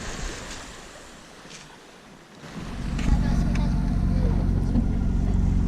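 Ocean waves wash around a sailboat at sea, a broad rushing wash that starts faint and swells to a loud, steady roar with wind, and voices are heard talking over it.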